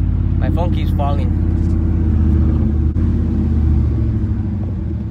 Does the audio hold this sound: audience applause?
no